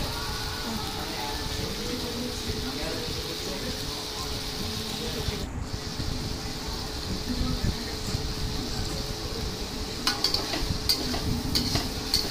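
Steady stir-frying of a spice paste with black mustard in a pan, a continuous close sizzle with scraping stirs throughout, a few sharper clinks near the end.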